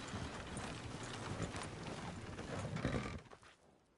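Horse hooves clip-clopping in a video game, a brisk run of close hoofbeats that cuts off abruptly near the end.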